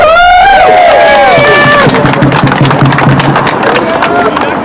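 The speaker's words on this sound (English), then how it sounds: "Can you guys all give yourselves a round of applause?" A crowd at an outdoor anti-racism rally in Marina whoops and cheers, then settles into loud, sustained clapping with a murmur of voices underneath.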